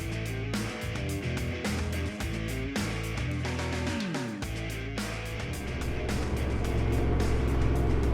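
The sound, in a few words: vehicle driving across Simpson Desert sand dunes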